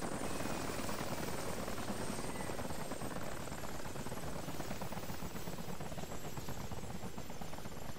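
A military helicopter drones steadily at a distance as it spools down during a joint training exercise, its rotor noise a constant dense whir with no voices.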